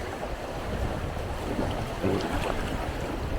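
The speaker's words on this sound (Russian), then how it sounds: "Это последняя волна" Waves on the Indigirka river wash against a boat during a rafting trip, making a steady, loud rushing churn mixed with wind buffeting the microphone.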